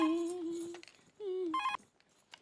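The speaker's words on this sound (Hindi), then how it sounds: "मैं अभी दया भाभी को फोन करती हूँ।" An electronic phone ringtone sounds twice, steady tones separated by a short pause, clear and fairly close.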